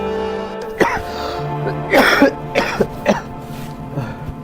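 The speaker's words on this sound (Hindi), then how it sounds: "बहुत खांसी आई है।" Several sharp coughs burst out over a steady background hum, spaced irregularly, with a throat-clearing rasp among them; close and fairly loud.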